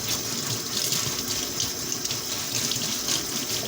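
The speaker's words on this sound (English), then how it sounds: "I'm gonna go right ahead and clean these potatoes really nice. I'm gonna scrub them and make them look clean." Steady tap water runs into a kitchen sink while raw potatoes are scrubbed clean, a constant close hiss and splash with no talk.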